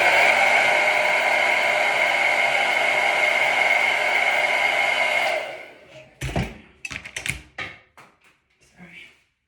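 A hair dryer blows steadily at close range on a lace frontal wig for about five seconds, then cuts off, leaving brief handling knocks and soft rustles.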